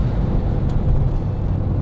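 A 2025 Ford Mustang GTD drives in track mode, giving a loud, steady low engine roar and road rumble that continues without a break through the short stretch.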